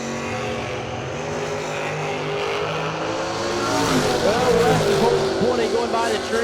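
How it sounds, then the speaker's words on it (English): A Camaro drag racing car launches down the strip at a drag race, its engine roar building and rising in pitch, heard with a track announcer talking over it. "at 631 to the 772 dial there for Jeff Krasinski's Camaro"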